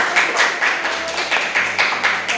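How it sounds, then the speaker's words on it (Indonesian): Classroom applause after a group presentation, a steady wash of many hands clapping close by with a few louder bursts running throughout. "Tepuk tangan"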